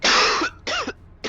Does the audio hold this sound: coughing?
yes